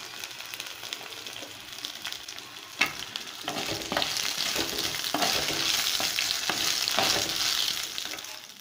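Ingredients sauté in a hot pan while being stirred, a steady close sizzle with scraping stirring strokes over it and one sharp knock near the start.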